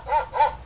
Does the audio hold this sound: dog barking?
yes